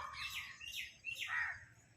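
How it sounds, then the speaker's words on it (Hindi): Peacocks calling in a temple garden, several loud rising, wailing cries in quick succession, fairly close, with no talking. "देखिए मोर आवाज़ कर रहे हैं"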